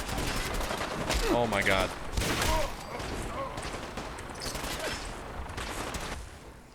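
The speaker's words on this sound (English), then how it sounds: "Is the vertibird shooting at me? Or is that just the super mutants?" Gunfire from a vertibird or super mutants in the Fallout video game crackles in rapid bursts and scattered shots over a noisy backdrop, with a player's exclamation partway through.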